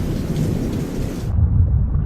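Thunder from a lightning bolt: a deep, loud, continuous rumble that swells toward the end, close and heavy, with no voices.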